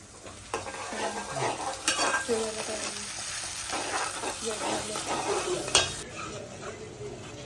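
Onion and green chili paste fry in a hot tadka, giving a faint steady sizzle with occasional spoon scrapes and clinks against the pan, and someone talking quietly over it.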